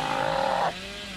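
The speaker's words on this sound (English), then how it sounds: "you hear the chainsaw and you just see this madman running at you" A chainsaw in the Dead by Daylight video game revs loudly and steadily for under a second, then cuts off abruptly, leaving a faint hum behind.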